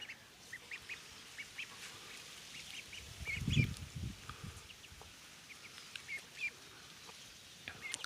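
Wet ducks quack intermittently at a modest distance, with a louder cluster of calls in the middle over quiet background rustling, with a chicken nearby.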